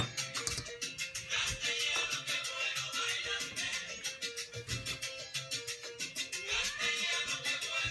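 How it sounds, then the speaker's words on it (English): A cat meows repeatedly in a kitchen where pasteles are being made, the calls close and insistent, coming in a rhythmic series of cries that rise and fall. "What you doing, kitty?"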